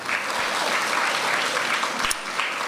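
Audience applause fills a morning cultural competition event, a steady, dense wash of clapping throughout with a brief louder burst near the end.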